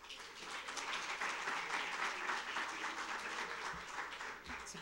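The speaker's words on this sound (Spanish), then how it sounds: "quiero que le demos un fuerte aplauso" An audience applauds a sociologist speaker, broad steady clapping from many hands that swells and holds for several seconds at a moderate distance, with no talk.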